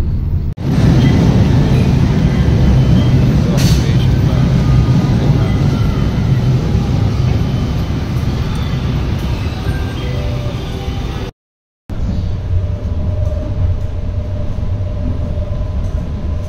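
An LRT train at Taft station rumbles loudly and continuously nearby, with a broad rolling roar and faint metallic tones, then a brief cut and a quieter, steadier hum afterward.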